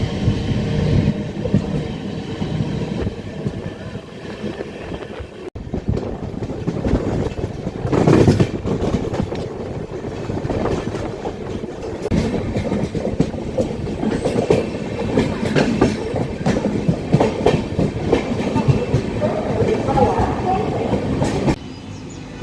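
Amrit Bharat Express train running on rails near Chengalpattu Junction, a steady rolling rumble with rhythmic clickety-clack of wheels over rail joints, loud and continuous throughout.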